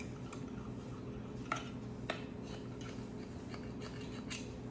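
A butter knife scrapes gently around the edges of a non-stick pan, a string of light metallic ticks and scratches close by at an even, unhurried pace.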